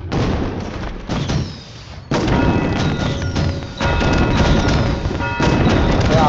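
Firecrackers burst in loud, heavy booms and crackling blasts, several bangs in quick succession with brief gaps, close and harsh, followed by ringing tones.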